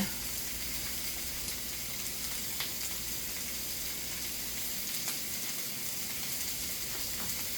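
Butter sizzling in a pan alongside grilled pork chops, a steady, even hiss of frying fat that holds at moderate loudness throughout, with occasional faint crackles and no voices.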